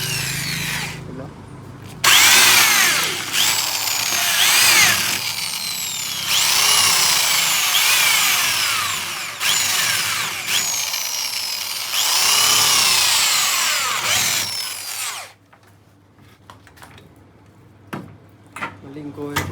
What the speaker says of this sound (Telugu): దీనికైతే మనం డ్రిల్ మెషిన్తో హోల్ టైప్ వేసేసుకుందాం